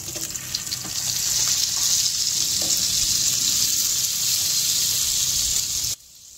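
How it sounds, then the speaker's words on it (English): Butter and brisket fat sizzle loudly on a hot Weber kettle, a dense steady hiss that swells after a moment and then cuts off abruptly near the end. "I'll throw some butter in now, along with that brisket fat"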